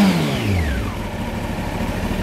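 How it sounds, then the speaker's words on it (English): Engine with a deep, throaty aftermarket exhaust revving hard, loud and close, pitch sweeping down after the rev then settling into a steady rumble. "I don't know how well the microphone picks up the exhaust, but this thing is deep and throaty"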